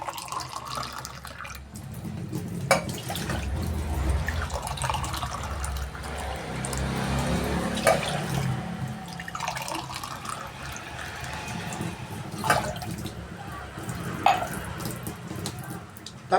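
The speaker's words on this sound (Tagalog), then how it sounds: "tatlong baso ng tubig." Three glasses of water poured into a bowl for pancit canton, a steady running trickle with occasional splashes and clinks, fairly close.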